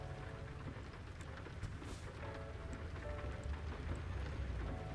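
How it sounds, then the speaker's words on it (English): Heavy rain pours steadily and loudly in American Truck Simulator, a dense continuous hiss with a low rumble, no talk. "you can stick your foot out the window and the rain is loud as hell"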